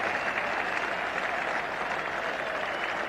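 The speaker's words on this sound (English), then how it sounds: "The crowd is applauding." A cricket crowd at The Oval applauds Alan Lamb's half-century during a 1987 one-day international between England and Pakistan, sustained, even clapping from a large distant crowd with no break.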